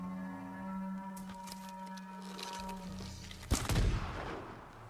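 A sudden explosion in the video game Ghost of Tsushima bursts out late, a sharp blast with a short rumbling tail over a quiet tonal game background.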